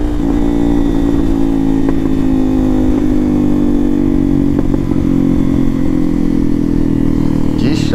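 A Honda XRE 300 motorcycle with a Doré exhaust rides at night, its engine droning loud and steady throughout with slight pitch shifts and a rattly exhaust note.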